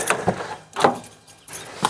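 Keys jingle and rattle in a few brief bursts, close by, with quiet gaps between the metallic clinks.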